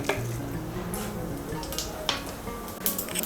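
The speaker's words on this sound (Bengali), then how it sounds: "ফোড়নটা দিয়ে একটু নাড়াচাড়া করে নিয়ে" A spoon stirs whole cardamom, cloves, cinnamon and cumin in hot oil, giving soft scraping and light clinking against the pan with a faint sizzle underneath, close and intermittent.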